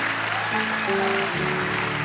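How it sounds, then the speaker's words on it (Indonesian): Church congregation clapping hands during a sermon, a continuous wash of applause with sustained musical tones running beneath it throughout. "Kurang semangat tepuk tangannya."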